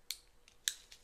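Small scissors snip an acrylic nail twice, crisp and close, with fainter clicks between the cuts and no talk.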